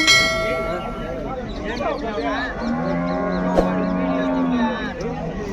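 A Holstein Friesian Jersey cow gives a long, deep moo close by at the Palamaneru cattle market, with a sharp metallic clang partway through and some background voices.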